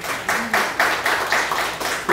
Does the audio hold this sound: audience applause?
yes